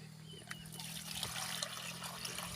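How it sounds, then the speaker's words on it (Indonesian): Water trickles and pours into a sprayer tank being filled for spraying bio farming base fertilizer on chili plants, a steady, moderate stream outdoors with a low hum beneath. "Kita tambah lagi airnya"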